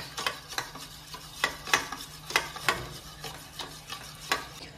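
Yogurt seasoned with salt and powdered sugar being whisked in a bowl for dahi vada, a steady run of sharp scraping clicks from the spoon against the sides, close and fairly loud with no talking.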